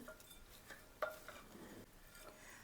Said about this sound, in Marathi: हे सगळं छान असं मिक्स करून घ्यायचं